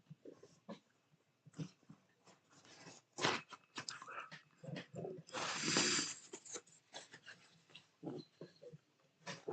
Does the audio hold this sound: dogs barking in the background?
yes